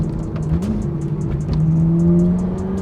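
A Ferrari F430 engine revs steadily and loudly, its note rising as the car accelerates and dipping briefly through an upshift, then climbing again.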